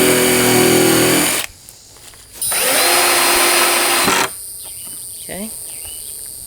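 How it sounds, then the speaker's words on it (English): A power drill bores pilot holes into wood while a cubby shelf is being built, running in two loud, close bursts of steady whine separated by a short pause, then stopping. "I am gonna be drilling 4 pilot holes"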